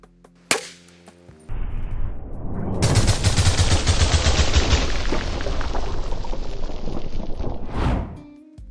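A single subsonic round fired from a Gibbs .338 ARC rifle: a sharp report, then a long loud rolling roar and echo that trails off over several seconds, with a brief noise at the end.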